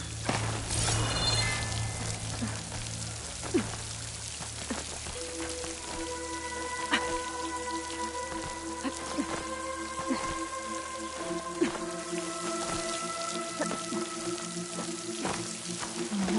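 Water flows steadily near a waterfall in Horizon Forbidden West, a continuous hiss and patter that runs throughout under soft, sustained musical tones.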